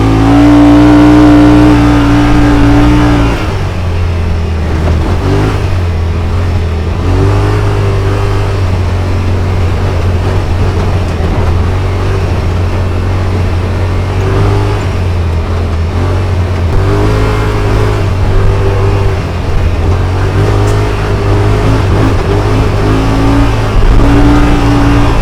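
A 2021 Yamaha Wolverine RMAX2 1000 Limited Edition side-by-side engine revs and accelerates loudly, its droning note rising and falling in repeated pulls on a trail, close and continuous with no speech.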